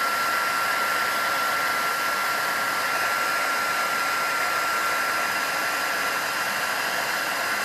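A heat tool melts embossing powder on a mixed media canvas, blowing with a loud, steady, unbroken roar that stays close throughout.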